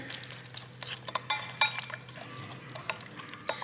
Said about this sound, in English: And then just a pinch of red pepper flakes. Give that a stir.